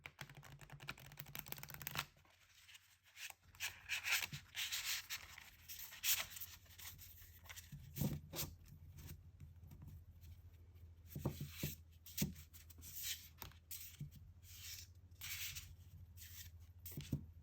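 Woodland Wardens oracle cards, thicker than playing cards, being shuffled up close and quietly, giving soft, irregular riffling and tapping bursts with short pauses between them.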